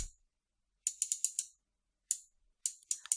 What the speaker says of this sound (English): Now if I turn the gear wheel in the opposite direction, only the other gear wheel, only the other axle rotates.